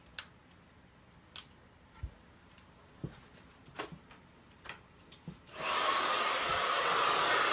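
A few scattered clicks and taps, then a hair dryer switches on and blows loudly and steadily until the end.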